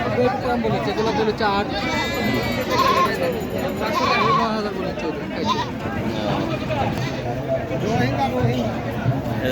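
Totapuri goats bleat repeatedly at the Baneshwar livestock market, mixed with a dense babble of buyers and sellers talking and bargaining close by throughout.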